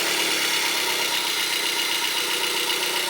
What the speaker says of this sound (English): Go ahead and crank the vehicle.